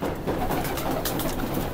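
Highflyer pigeons, including Sialkoti Lals, coo softly and repeatedly in a breeder's loft in Karachi, a low steady murmur of several birds layered over a dense background hum.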